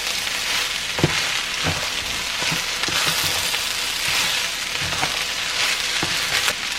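Peas and carrots stirred into hot shrimp fried rice, a steady dense sizzle with sharp scraping clicks of the spatula every second or so, close and loud with no voices.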